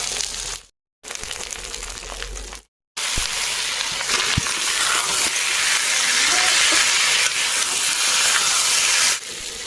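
Fish sizzles in hot mustard oil in a wok, a steady broadband frying hiss that starts after two brief cut-outs and continues loud and close to the end.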